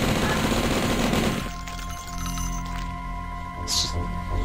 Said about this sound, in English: I think it's machine gun time.